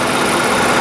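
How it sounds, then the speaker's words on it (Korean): The new Bentley Flying Spur's engine idles, a loud, dense, steady hum with a fine ticking texture heard up close from the open engine bay, without any talking. "지금 시동이 걸린 상태거든요. 걸린 상태인데 찰찰찰찰하는 요 소리 말고는"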